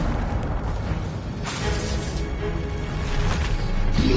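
Incendio fire spell bursting in Hogwarts Legacy combat, a loud rumbling whoosh with sharp popping and crackling hits, steady and close throughout with no speech.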